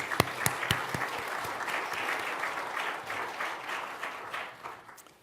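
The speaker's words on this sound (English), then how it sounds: "So can we have a round of applause for that group?" Conference audience applause for a panel on digitization resourcing: a few sharp individual claps up front, then steady moderate clapping that fades out over about five seconds.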